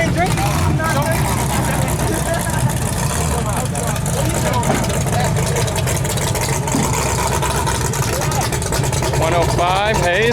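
A Lincoln Town Car's engine rumbles steadily at a 2020 Scott County demolition derby, a loud, continuous roar mixed with crowd noise, with people talking throughout.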